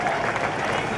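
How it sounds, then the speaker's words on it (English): Audience applause for a fireman at a Q&A session aboard the Kiss Kruise fan cruise, a dense, steady wash of clapping and crowd noise filling the full second with no break. "Give him a round of applause."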